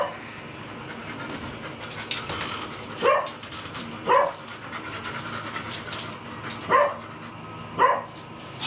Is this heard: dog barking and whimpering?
yes